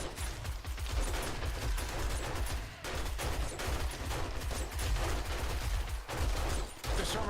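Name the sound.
9mm pistol gunfire in video game 7 Days to Die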